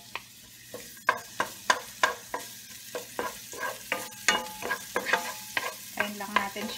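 Garlic sautéing in a pan for pancit canton: a close sizzle broken by a quick, regular series of spatula strokes scraping across the pan.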